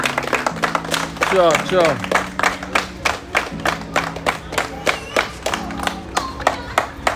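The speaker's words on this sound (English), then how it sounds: "Round of applause now." Scattered audience clapping at a lively outdoor street gathering, sharp uneven claps building into brief applause while people talk and call out over it.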